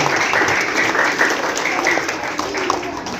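Audience applause at a school gathering, a steady wash of many hands clapping, fairly loud and close, lasting a few seconds.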